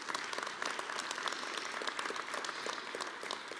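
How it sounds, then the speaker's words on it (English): Applause from the audience at Pueblo's State of the City event after the national anthem, a steady, moderately distant patter of many hands clapping throughout. "Let's give her a round of applause for her performance this morning."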